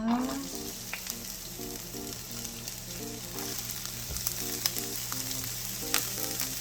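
Onion sizzling in hot cooking oil in a preheated frying pan, a steady close crackle and hiss running throughout, with a low background hum and no talking.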